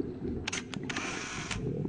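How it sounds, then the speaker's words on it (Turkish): A camera shutter clicks about four times in quick, uneven succession, crisp and near, as a professional diver photographs celebrities at a dolphin-freedom protest dive, over a low steady background hum. "Profesyonel dalgıç Fatih Aksu deklanşöre bastı"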